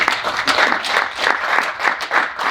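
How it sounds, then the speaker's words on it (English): An audience bursts into applause for a speaker at a career talk, giving dense, steady clapping from many hands that swells and fades in waves for a couple of seconds, close and fairly loud. "a round of applause please for Jalen"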